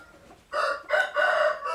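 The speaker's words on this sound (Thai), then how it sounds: "ตัวนี้ พ่อไก่อีกตัวหนึ่งครับ" A rooster, a Chor Thong fighting cock of about three kilos from Nong Phok, Roi Et, Thailand, crows loudly and close by, a single drawn-out cock-a-doodle-doo in several rising and sustained segments, with no other sounds.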